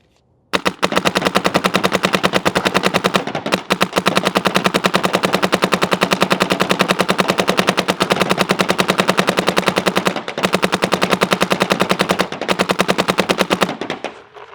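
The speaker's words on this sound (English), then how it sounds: "Can we get a pod where you shoot over the signs so that we can hear just the marker?" Shocker ERA paintball marker firing a full pod of paintballs in a long, rapid, steady stream of sharp pops, loud and close, with a few brief pauses before the burst ends.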